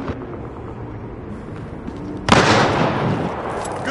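An incendiary grenade in Battlefield Hardline on the Downtown map bursts into a sudden loud roaring whoosh of fire partway through, after a stretch of low rumbling game noise.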